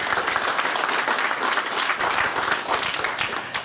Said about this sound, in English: We just want to give them a round of applause.